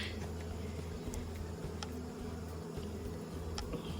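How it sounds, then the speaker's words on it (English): Continuous low buzzing of agitated bees close by, disturbed while beehive brood boxes are merged after a bear attack, with brief sharper ticks and clicks scattered through. "the bees are a little bit upset with me right now."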